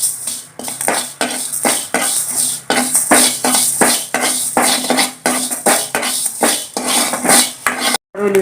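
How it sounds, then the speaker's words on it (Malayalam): Fenugreek seeds and asafoetida roasting in a pan while a spoon scrapes and stirs in quick, regular strokes, loud and close with no talk. "നമുക്ക് ഇതിൻ്റെ ഒപ്പം തന്നെ ഉലുവ ഇട്ടിട്ട് അതും കൂടി ഒന്ന് വറുക്കാം"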